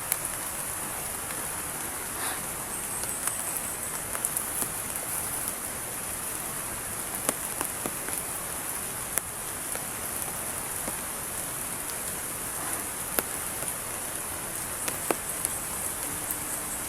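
Steady, dense rain hisses continuously outdoors in a leafy area, with occasional sharp drips and clicks standing out, level throughout and with no voices.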